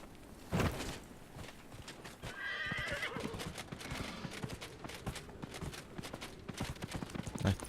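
A horse in Dragon Age: Inquisition gives a loud whinny near the start, with a second neigh around the middle, over steady clip-clopping hooves that continue throughout at close range.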